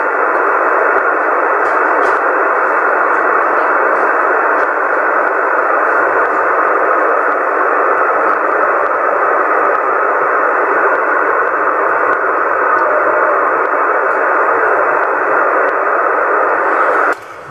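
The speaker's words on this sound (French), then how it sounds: "j'ai un petit peu de QRM là, de mon côté là" Interference hisses on CB radio channel 27, a loud, steady band-limited rush of static and noise that fills the whole stretch before cutting off abruptly at the end, with no voices.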